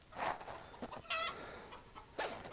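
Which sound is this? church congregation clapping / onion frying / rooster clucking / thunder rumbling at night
rooster clucking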